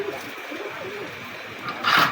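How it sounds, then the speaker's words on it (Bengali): Pigeons at a Khulna pigeon sale, Pakistani high-flyer breed, give soft low cooing under a steady background hum, with a louder burst of bird calling near the end. "দর্শক আরও কিছু কবুতর আছে"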